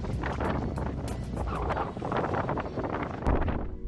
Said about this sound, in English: That's when we get the serious gusts.